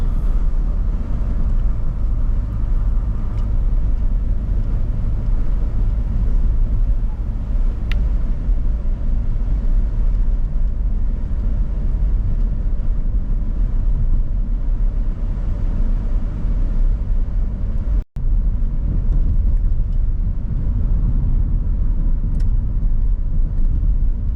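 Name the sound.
car driving along English country farm roads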